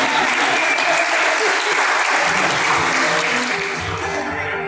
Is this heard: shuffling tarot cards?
no